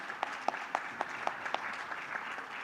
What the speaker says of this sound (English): can I have a big round of applause for the team?